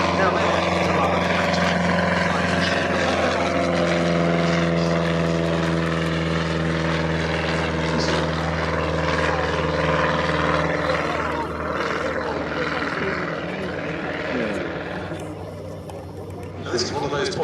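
A propeller aircraft drones steadily with strong tonal engine harmonics at the Shuttleworth airshow, holding near and loud before easing slightly toward the end, with a commentator talking over it.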